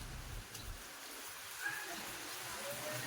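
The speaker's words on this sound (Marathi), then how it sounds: "आज पण परत एकदा पाऊस सुरू झालाय" Steady broadband hiss of continuous rain falling in a village during the Bail Pola festival, fairly faint and unbroken throughout, with no clear talk over it.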